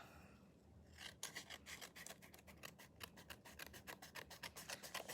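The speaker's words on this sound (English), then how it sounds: "I'm just going to trim with my scissors" Scissors snip rapidly in a steady series of crisp cuts, close and fairly quiet, after a brief soft rustle.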